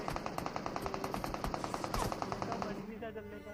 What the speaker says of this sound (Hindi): उनकी तो फायरिंग ही नहीं रुक रही थी थोड़ी देर के लिए।